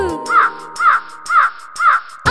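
A crow caws four times in an animated Kannada nursery rhyme, each harsh call evenly spaced and loud up front, with a fifth cut short at the end.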